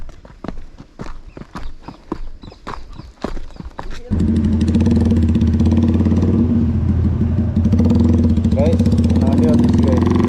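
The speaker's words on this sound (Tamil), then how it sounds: "வண்டி வந்துச்சு. அதுதான் சவுண்டு கேட்குதுங்களா?" A modified Yamaha R15 V3 motorcycle pulls in with a loud, steady engine drone that begins abruptly partway through, after several seconds of sharp clip-clop-like knocks.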